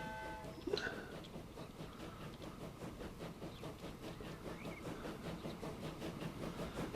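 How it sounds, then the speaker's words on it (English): Steam locomotive running in Transport Fever, a steady rhythmic chuffing with clattering wheels and a brief whistle-like tone near the start, continuous at moderate loudness. "Come on, chuffer train."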